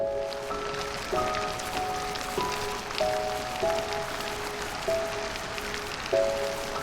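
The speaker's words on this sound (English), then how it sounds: "Unfortunately, it starts to rain again." Rain falling at a campsite near the entrance to Pompeii, a soft steady patter with faint drips, alone and without voices, and a few recurring tonal chimes over it.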